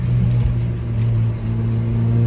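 Sports car engine revving hard on a winding road through shaded turns, a loud sustained growl with a strong steady tone that rises and dips slightly as the car pulls through the bends.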